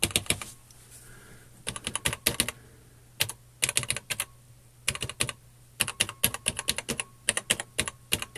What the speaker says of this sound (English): random keys seem okay